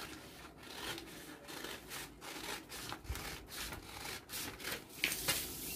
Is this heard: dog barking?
no